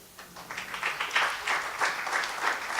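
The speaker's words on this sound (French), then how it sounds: "Est-ce qu'on peut les applaudir?" A church congregation applauds steadily, a dense mid-level patter of many hands clapping throughout.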